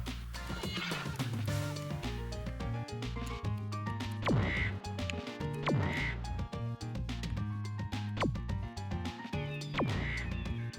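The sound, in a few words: birds quacking in the video game Spyro: Year of the Dragon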